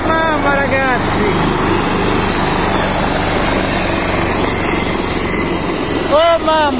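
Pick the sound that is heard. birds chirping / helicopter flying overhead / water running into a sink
helicopter flying overhead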